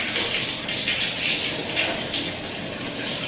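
Water gushes from the tap into a bathtub with bubble bath, a loud, steady hiss and splash close by with no talking.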